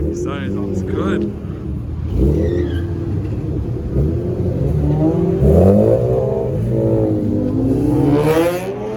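A Nissan 370Z Nismo revs at a car meet in Hartford, Connecticut, its engine rising and rumbling close by while people talk loudly over it.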